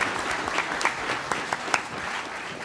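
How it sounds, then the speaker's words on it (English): An audience at a 2016 Indiana lieutenant governor debate event applauds, a fairly quiet, steady round of clapping with a few sharper individual claps standing out. "let's give Gary Dick a wonderful round of applause for all his great work today"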